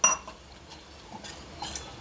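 A spoon stirring cornflour slurry with water in a small bowl, sparse light clinks and taps against the rim at irregular intervals, close but faint, with near-quiet gaps between.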